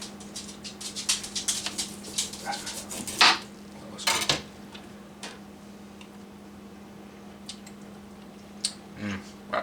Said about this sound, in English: I'm going to cut it as thin as I can.